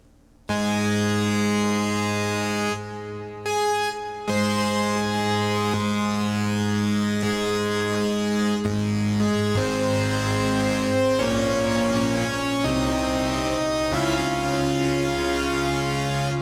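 A Korg Prologue 16 synthesizer holds a sustained tone with a lush, gently shimmering light chorus and reverb, long notes with a few brief pauses and pitch changes, no voices.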